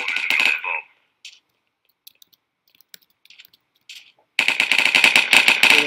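Gunfire in a CS:GO-style Minecraft game, two loud bursts of rapid automatic shots, one short at the start and a longer one at the end, with faint clicks in the quiet gap between.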